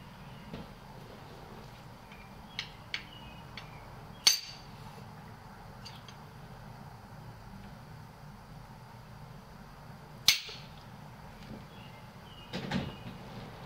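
Two sharp metallic hammer knocks driving a shaft into a TD04 turbocharger, several seconds apart, over a quiet room hum, with a few light taps and clinks between them.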